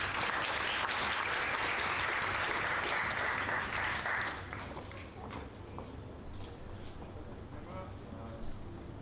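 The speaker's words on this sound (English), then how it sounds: "Let's give a round of applause for Preet." An audience at an expat entrepreneurs' awards livestream applauds steadily for about four seconds, then the clapping thins out into scattered claps and room noise while people speak.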